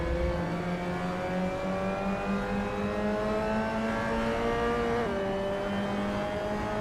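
A Lotus Cortina race car at Cadwell Park in Assetto Corsa accelerates hard. The engine drone is loud and steady and climbs in pitch, with a brief dip as the gear changes near the end.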